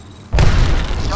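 A grenade goes off in Apex Legends with a sudden loud, close boom after brief quiet, followed by a rumbling, crackling tail.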